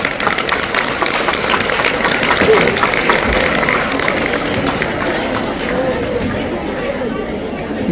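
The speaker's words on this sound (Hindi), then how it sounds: "एक बार संजय जी के लिए जोरदार ताली बजाओ।" A large audience of students and parents at a coaching centre event claps loudly and steadily for the school's founder. The applause is a dense, continuous wash with crowd chatter mixed in.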